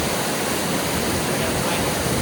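Water rushes over rocks at a stream crossing on a marshland trail, a steady, loud broadband roar filling the whole stretch without letup.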